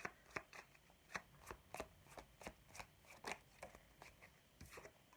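Tarot cards are handled and drawn from a deck in a quick run of soft, regular flicking and sliding card sounds that stay close and quiet, with no voice over them.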